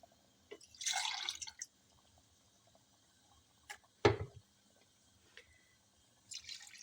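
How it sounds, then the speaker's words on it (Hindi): Water goes into a cooking pot of beef paya (beef trotters), roughly a litre in all: a short splashy pour up close, followed by a few sharp clinks and drips and then near silence, with no talking. "मैंने पानी डाल दिया।"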